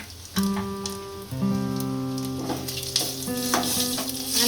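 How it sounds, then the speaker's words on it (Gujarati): Asafoetida, cumin seeds and two dry red chilies sizzle in hot oil, a bright crackling hiss that swells in bursts, with a tonal melody sounding underneath. "આપણું તેલ સારી રીતના ગરમ થઈ ગયું છે આ હિંગ નાખીશું આમાં જીરું નાખીશું બે સૂકા મરચા નાખીશું"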